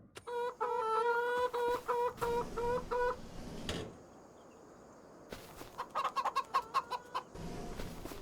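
Chickens and roosters in the Farming Simulator video game, rapid rhythmic clucking in repeated bursts, then a pause and another run of clucks, clear and close with no voices.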